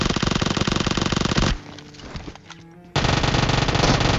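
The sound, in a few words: two Uzi submachine guns firing in PUBG Mobile video game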